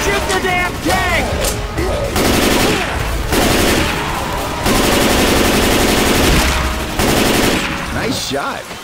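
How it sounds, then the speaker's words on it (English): Rapid automatic gunfire in Left 4 Dead 2 pours at the Tank in several loud, sustained bursts separated by brief pauses, with voices calling out over the shooting. "Shoot the damn tank!"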